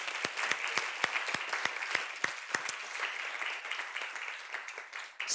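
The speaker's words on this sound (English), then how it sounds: "A warm applause for this." Audience applause after a talk at an open science session, dense and steady clapping from a large crowd holding for several seconds before thinning out at the end, with sharper individual claps standing out.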